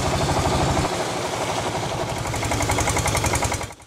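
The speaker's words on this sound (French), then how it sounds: "il sera difficile de filmer à cause des vibrations causées par son pétaradant moteur à 4 temps." A noisy four-stroke engine chugs on a boat on Inle Lake, a loud, fast, rhythmic pounding close by that runs steadily and drops away at the very end.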